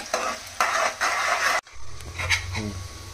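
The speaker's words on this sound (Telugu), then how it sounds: "ఆనియన్స్ అయితే ఫ్రై అయిపోయినాయి" Onions frying in foaming peanut oil for chicken kurma, a close hiss of sizzling mixed with scraping stirs of a utensil against the pan, a brief cut midway, no talking.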